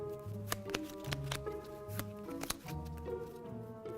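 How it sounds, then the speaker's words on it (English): A basic pack of playing cards being shuffled, with a run of crisp riffling clicks and snaps over a steady musical backing. "what I have here is a basic pack of cards, and I'm going to be shuffling it first"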